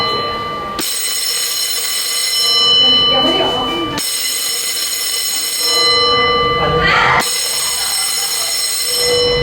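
A loud electric fire alarm bell rings continuously during a fire evacuation drill at a provincial public health office in Trat, Thailand, with brief pauses and muffled voices and commotion underneath.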